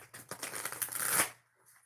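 A deck of tarot cards gets a single quick riffle shuffle, a close, crisp flutter of paper lasting about a second before fading into near silence.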